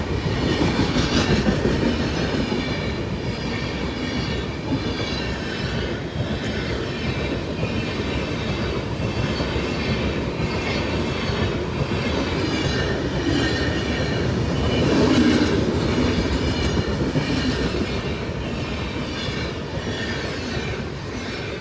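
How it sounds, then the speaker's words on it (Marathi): A train rolls past close by for the whole stretch, steady rumbling wheels with rhythmic clacking and a faint squeal, no voices. "इथं आता ट्रेन जाते म्हणून आम्ही थांबलो"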